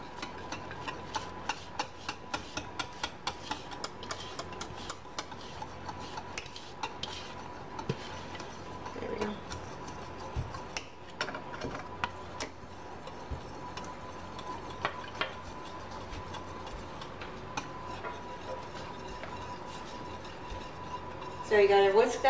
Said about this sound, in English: So you gotta whisk that until it boils, and then it should thicken right after that.